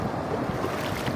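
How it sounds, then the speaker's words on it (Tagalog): Rough deep-sea waves heard from a boat off Prieto Diaz, a steady broadband wash of surf and wind buffeting the microphone, fairly loud and continuous with no talk. "kabangis itong alon na ito"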